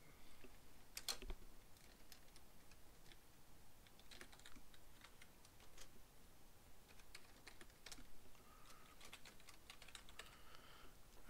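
Someone types on a computer keyboard in bursts of quick, light key clicks, faint and close, with short pauses and a few sharper taps between runs.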